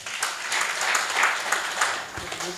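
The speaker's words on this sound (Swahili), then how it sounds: "Tujipigia makofi tafadhali." An audience at the East Africa Legal Empowerment Summit applauds, a steady wash of clapping from a crowd in a hall lasting a few seconds without speech.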